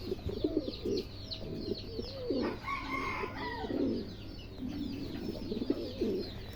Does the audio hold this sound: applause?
no